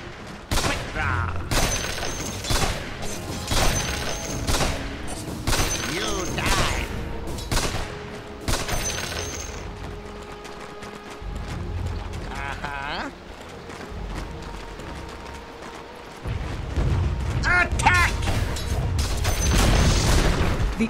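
Rapid sniper rifle shots from the sniper hero in Dota 2 crack out in repeated bursts over busy battle effects, with a game voice speaking at times.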